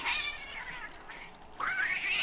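A cat in the Bad Rats video game lets out drawn-out, wavering meows, two or three plaintive cries close and clear with no talking over them.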